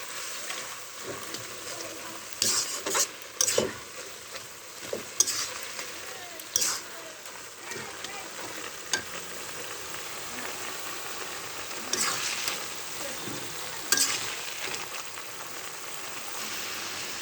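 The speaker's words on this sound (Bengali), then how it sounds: "আর ঢেকে দেবো না, এভাবে নেড়ে চেড়ে নেব।" Red amaranth greens frying in an open pan, a faint steady hiss with intermittent soft scraping stirs and light clatters, quiet and close.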